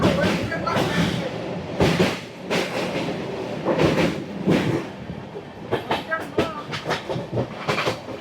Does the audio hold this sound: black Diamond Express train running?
yes